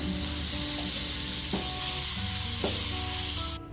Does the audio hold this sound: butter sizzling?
yes